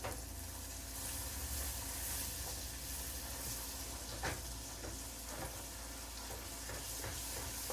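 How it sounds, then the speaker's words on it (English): Butter sizzling and frying in a hot pan while being stirred during home baking, a soft, steady crackling hiss with occasional sharper pops and spatula scrapes, quiet and close, with no talk. "And yes, it will sizzle."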